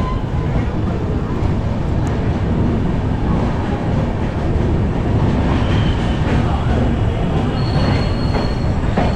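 A loud train rumbles and rattles continuously nearby at crowded Dadar station in Mumbai, with squealing wheels and a bustling crowd murmuring throughout.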